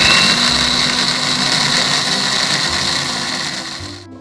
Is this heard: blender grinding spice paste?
yes